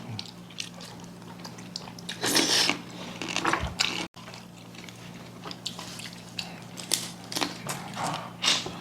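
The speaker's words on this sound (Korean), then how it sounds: "나물에서 밥 한 숟갈 먹는 게 최고야." Someone eats a spoonful of rice with seasoned Korean vegetable side dishes such as bracken and bellflower root namul, close wet chewing and smacking with soft clinks, fairly quiet and steady with no talking.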